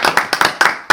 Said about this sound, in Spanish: para el que ya pido, y esta vez sí, un fuerte aplauso